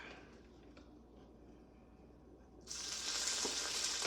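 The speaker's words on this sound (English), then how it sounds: "I'm just browning some butter" Butter browning in a saucepan: a quiet kitchen hum gives way to a sudden, loud, bright sizzle that continues steadily to the end.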